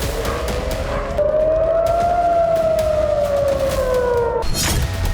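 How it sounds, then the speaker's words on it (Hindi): Air raid alert siren in Israel, a single long wailing tone that rises and then slowly falls, loud and steady over background noise before cutting off abruptly. "इजराइल में शुक्रवार से अब तक कई बार एयर अलर्ट का सायरन बज चुका है।"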